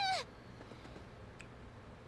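Morgana, the cat character in the video game Persona 5 Royal, gives one short, loud meow at the very start, followed by a quiet game soundscape.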